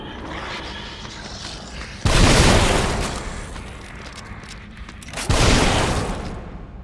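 Shotgun blasts in The Evil Within, two loud booming shots a few seconds apart, each with a decaying roar, over a low ambient game background.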